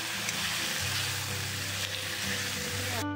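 Spices with red chili fry in a pan of oil for a yam and fish curry, giving a steady close sizzle and crackle that holds evenly throughout, with no voices.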